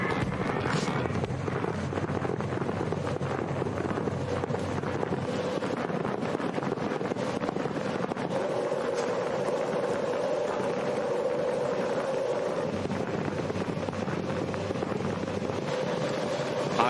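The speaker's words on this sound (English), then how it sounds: "fire up those Honda engines!" Several Honda-powered IndyCar race car engines start and idle together at the 2009 season-ending 300-mile race at Homestead-Miami, a steady, loud, broad engine drone lasting throughout and mixed with crowd and wind noise.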